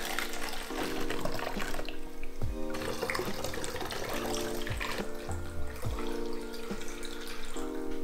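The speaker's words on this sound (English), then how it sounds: "pour your developer into the developer bottle, this one. And then pour the water in as well." Warm tap water runs into a developer bottle for a C41 colour film kit, a steady close splash and trickle with faint knocks and shifts in pitch as the bottle fills.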